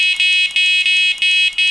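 An MK1 R-Plus Compact remote fishing bite alarm gives a loud, high, piercing beep that holds steady, with brief regular dips about every third of a second, close up and with no other sounds.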